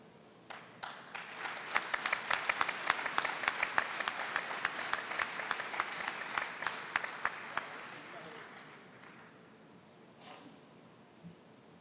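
An audience at an international mathematics congress award ceremony breaks into warm, rapid applause that swells for several seconds and then thins out and fades to scattered claps.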